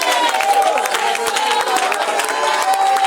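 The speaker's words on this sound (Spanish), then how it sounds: "Fuerte ese aplauso para él" Church congregation applauding and cheering for a pastor, a dense sustained crowd of clapping with voices and shouts mixed in, loud and steady throughout.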